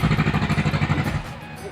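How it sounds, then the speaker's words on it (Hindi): A tractor engine chugs nearby with a fast, even, pulsing throb that stays loud for over a second, then drops away. "अब ये ट्रैक्टर के आवाज़ सुन के डरा गए।"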